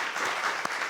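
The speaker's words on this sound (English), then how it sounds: "So a big round of applause for all of these guys." Studio audience at a televised high school quiz show playoff breaks into applause, a brief, loud, steady burst of many hands clapping.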